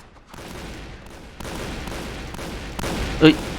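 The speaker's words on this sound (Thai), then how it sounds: "ปืนรัวขนาดนี้ไม่ต้องสืบนะครับ" Rapid automatic gunfire rattles out in the Point Blank shooting game on the Safari map, a dense, steady burst of shots that swells toward the end with a sharper crack.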